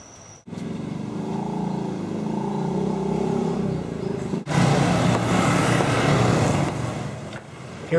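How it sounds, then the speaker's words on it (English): Motorbike engines rumble and rev along a busy street on Monkey Forest Road in Ubud, Bali, with a louder surge of passing traffic in the second half. "Here are some of the main roads in Ubud, crowded with motorbikes."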